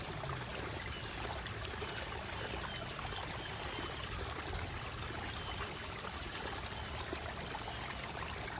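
A stream of water flows over rocks in a steady, dense rush of splashing and burbling that holds an even loudness throughout.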